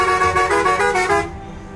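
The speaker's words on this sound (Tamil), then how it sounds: "அடுத்தது தேர்ட் ஹாரன் பாருங்கள்" A bus horn in the video game Bus Simulator Indonesia blares in a sustained, slightly pulsing tone for about a second, then cuts off, leaving a faint low rumble.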